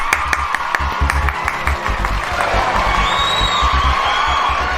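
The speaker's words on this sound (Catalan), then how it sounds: "Un fort aplaudiment per l'Albert," A studio audience at a comedic quiz show claps and cheers for a contestant, with strong low thumps and bursts of noise at first, then whoops and crowd noise swelling as the applause carries on.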